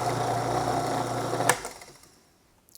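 Food processor pulsing dry shortbread ingredients: a steady, close motor whir that cuts off sharply and fades out, then a short clatter at the end.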